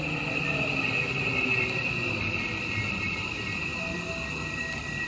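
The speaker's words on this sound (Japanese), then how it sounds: "西明石行きの普通列車が入っています。" A local commuter train bound for Nishi-Akashi pulls in on the inner line during the morning rush hour: a steady, close rumble of wheels and cars with a thin high rail squeal running through it.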